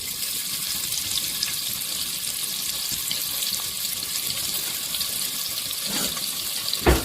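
Steady broadband sizzling hiss of onions frying in hot oil, continuous and close, with no talking.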